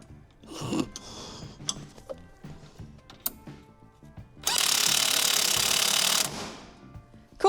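Power tool tightening a part back onto a 1978 Corvette: several short, scattered bursts and clanks, then one sustained loud whirr lasting about two seconds, close by, with no talking.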